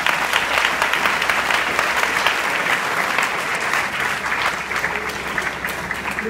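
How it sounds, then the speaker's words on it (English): Round of applause from an audience at a St. Peter's College International Women's Day event, loud, sustained clapping that fills the hall for several seconds without speech. "A round of applause to St. Peter's College for what you do."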